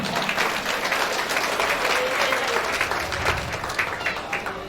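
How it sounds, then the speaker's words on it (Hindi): A large audience claps steadily for someone taking the stage at a company foundation day celebration, continuous and fairly distant with no speech over it. "उनके लिए जोरदार तालियों से अभिनंदन करेंगे।"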